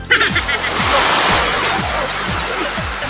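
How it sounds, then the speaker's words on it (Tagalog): Strong ocean waves surge and wash loudly at close range with a steady rushing roar, while a voice speaks briefly over the water. "Ang lakas ng alon."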